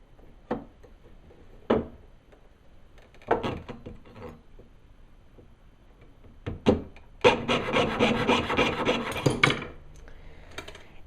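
Brass or sterling silver square wire being sawn: a few short rasping strokes, then a sustained run of rapid, close, gritty back-and-forth sawing before it stops.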